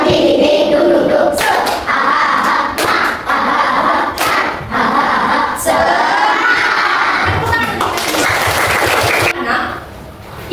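Classroom of third-grade pupils clapping in unison in short rhythmic bursts, with children's chanting voices and a busy room of voices throughout.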